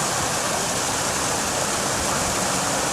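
Fresh mountain water rushes in the Swiss Alps above the town of Murren, a loud, steady, broadband roar that never varies and has no voices over it.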